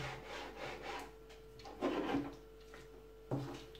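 A knife saws through homemade gyros meat, cooked without a rotisserie spit and not frozen, cutting it into slices about one centimetre thick. Soft rubbing strokes run steadily, with two louder bursts as the blade works through.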